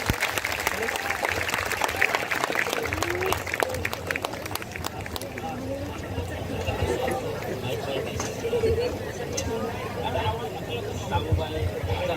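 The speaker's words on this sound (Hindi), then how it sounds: "जोरदार तालियों बजाइए।" A congregation at a Christian worship gathering claps loudly, sharp claps crowding together in the first seconds, then thinning into crowd murmur and chatter for the rest.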